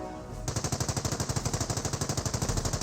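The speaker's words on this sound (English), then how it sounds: "This may be its first shot right now. That may be incendiary mortar." Rapid weapon fire in Company of Heroes during a battle with a mortar half-track, a fast even burst of repeated gunshot-like cracks that starts abruptly and continues steadily, loud and close with no talking.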